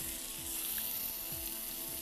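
Vegetables cooking in olive oil left over from seafood for a fish and shellfish paella, a steady close sizzle with a constant hum underneath and no talking.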